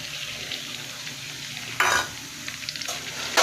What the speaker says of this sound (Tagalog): Ayan, typical na gisa lang.